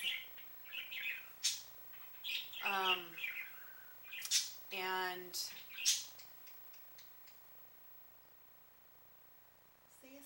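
A pet bird chirps and squawks in short bursts indoors, some calls rising sharply, mixed in with a person talking nearby.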